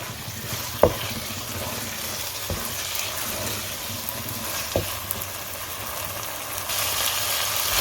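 Keema sizzling and frying steadily with julienned ginger over a high flame, a continuous loud hiss with a few sharp stirring knocks, no talk.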